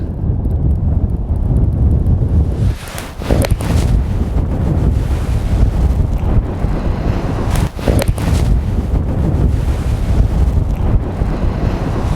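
Strong wind blowing across a golf course, a loud continuous roar buffeting the microphone, with brief dips in the gusts and no one speaking.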